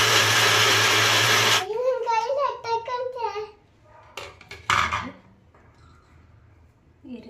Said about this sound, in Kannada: ತಗೊಂಡಿದ್ದಾಗ ಮಿಕ್ಸಿಗೆ ಹಾಕಿ ಇದನ್ನ ನಾನು ಪೂರ್ತಿ ನೈಸೇನು ಮಾಡ್ಕೊಳ್ಳೋದಿಲ್ಲ